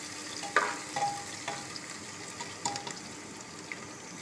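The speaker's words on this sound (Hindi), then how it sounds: "मैं उसमें अदरक और लहसुन का पेस्ट ऐड कर दिया, और हल्का सा उसे 1 से 2 मिनट तक भूनेंगे" Ginger-garlic paste fries in a pan while being stirred, producing a soft continuous sizzle with intermittent scraping stirs and small clinks, close and fairly quiet.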